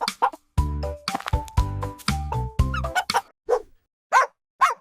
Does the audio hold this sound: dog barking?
yes